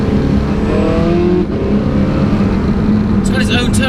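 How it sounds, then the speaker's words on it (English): Porsche 918 Spyder with its V8 engine, a loud close-up drone that rises in pitch as the car accelerates, with a steady rumbling tone that fills the whole stretch. "just listen, when was the last time you heard a V8 like this?"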